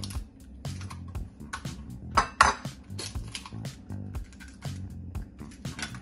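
Salt, vanilla extract and eggs stirred together in a bowl, giving repeated close clinks and scrapes of a utensil against the bowl in an irregular rhythm, with a louder burst of rattling partway through.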